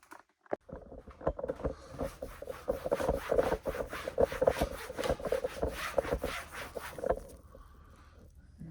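A towel wipes trim restorer off plastic car trim in a steady series of quick, close rubbing strokes lasting several seconds, then the sound stops and only quiet room noise remains.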